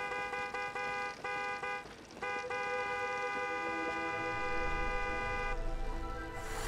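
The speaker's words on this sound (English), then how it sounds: "that's the one thing you get is the honk." A car horn in the video game It Takes Two sounds a few short honks, then one long sustained blast that ends abruptly, loud and close over a steady game background.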